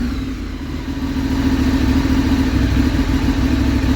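A Ducati 848 Streetfighter motorcycle engine idles close by with a steady, loud rumble after a Rapid Bike install, rising slightly in intensity partway through.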